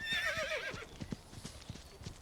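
Horse hooves clip-clop in an even, steady rhythm close by while a horse neighs loudly over the first part, then the hoofbeats continue alone.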